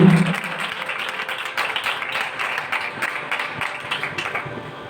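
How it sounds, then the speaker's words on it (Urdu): A church congregation claps for God at a Christian service, a moderately loud burst of many hands that settles into uneven, slightly rhythmic clapping. "زوردار تالیاں سے خدا کے لیے"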